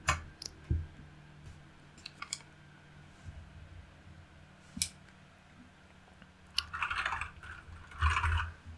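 Someone types on a Redragon K552 mechanical keyboard, producing sparse, quiet clicks and taps that become a short cluster of louder keystrokes toward the end. No one talks over them.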